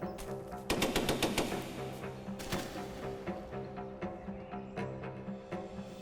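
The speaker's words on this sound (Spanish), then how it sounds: "Actualmente disparamos aquí las armas más sofisticadas del mundo y lo hacemos muy bien" Weapons firing on a military range: rapid bursts of sharp gunshots, some in quick automatic strings and some single, loud and echoing, with no voices.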